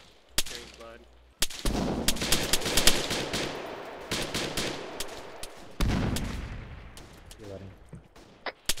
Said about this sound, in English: Taking fire southeast.